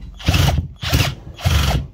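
A power drill fitted with a screwdriver bit whirs in three short bursts, separated by brief pauses, while backing screws out of an integrated fridge in a kitchen unit; loud and close.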